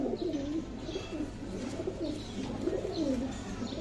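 Pigeons cooing steadily at a bird market where high-flying and coloured fancy pigeons are sold, with soft repeated throaty coos overlapping continuously and close by, alone without talk.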